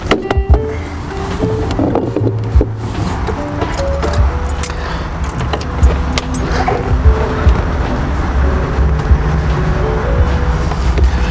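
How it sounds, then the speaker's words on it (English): An Airstream B190 van engine cranks and starts, then settles into a rough, rumbling idle with occasional clicks and rattles nearby. "I'm going to start the van now, and we'll get a sound of how it sounds."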